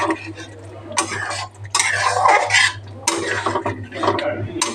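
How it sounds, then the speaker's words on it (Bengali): Potatoes tumble into a pot for Bengali dum aloo, followed by metal utensil scraping and stirring against the pan in loud, uneven bursts, with a steady hum underneath and no talking. "আমি আলুটা এবারে ঢেলে দেব"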